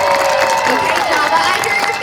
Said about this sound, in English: he needs to hear lots and lots of applause from his fans